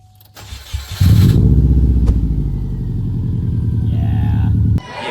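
A Subaru GC8 car's swapped engine cranks and roars to life through a loud exhaust, then settles into a steady, throaty rumble with a few revs, up close and dominating.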